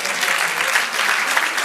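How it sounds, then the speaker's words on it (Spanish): A church congregation bursts into applause, dense and steady clapping from many hands filling a short burst, loud and close with no distinct voices over it. "Dale aplauso al Señor"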